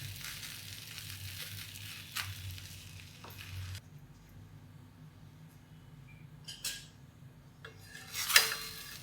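Pumpkin paratha frying in ghee on a hot griddle gives a soft, steady sizzle through the clip, broken by a few brief scraping and handling sounds near the end; no talking.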